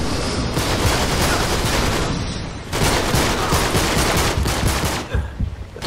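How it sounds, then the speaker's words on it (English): An armored pirate in the video game Uncharted 3 fires heavy automatic gunfire in sustained loud bursts, dense and close, with a brief break near the middle before the shooting resumes and then tapers off, with no talking. "What the heck is he shooting at me with?"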